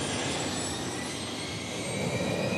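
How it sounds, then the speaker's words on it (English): A Learjet engine roars in a steady, loud, broadband rush during a run-up check in a factory run-up area, holding constant for the whole stretch with no voices. "We'll bring it out to a run-up area and check engine performance."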